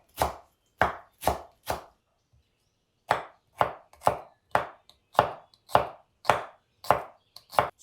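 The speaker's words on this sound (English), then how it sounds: "Finely chop the coriander." A knife finely chops fresh coriander on a board, about fifteen crisp close thuds in uneven bursts with short pauses, loud and alone.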